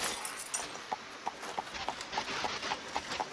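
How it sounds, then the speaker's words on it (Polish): Rhythmic clip-clop hoofbeats, like a horse trotting, actually a car engine sound in Rocket League, repeating steadily at moderate volume over a faint hiss, no talking. "Taki odgłos silnika jak koń."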